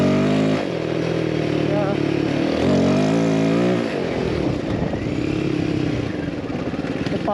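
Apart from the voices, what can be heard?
Royal Enfield Himalayan 450 motorcycle being ridden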